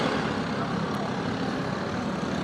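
Racing karts in the SR206 main at the IKF Grand Nationals in Nevada, a pack six or seven deep exiting a turn, give off a loud, steady engine drone that holds close and unbroken throughout.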